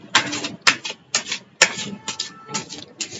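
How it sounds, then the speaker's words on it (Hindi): Tarot cards shuffled by hand after several fall, giving quick papery riffling bursts in an irregular rhythm, close and fairly loud, with no one speaking. "तो ओप्स काफी कार्ड्स गिर गए, मैं इनको शफल कर लेती हूँ"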